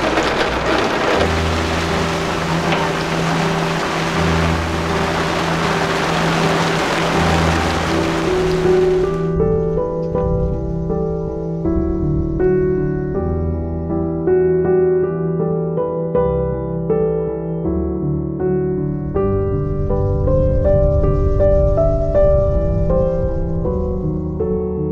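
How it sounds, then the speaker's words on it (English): Heavy rain squall pounds a sailboat for about nine seconds, a loud, dense hiss with low rumbles of thunder, before it gives way to music that fills the rest. "This is a huge squall."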